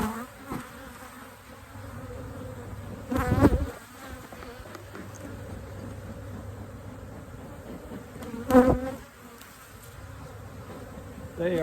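Swarm of honeybees buzzing steadily close by, with a few louder bursts as bees fly right past, no talking.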